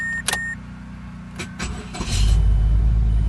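A 2012 Mazda 2 after key programming: a brief key jingle and ignition clicks, then the engine cranks and catches, settling into a loud, steady idle close by.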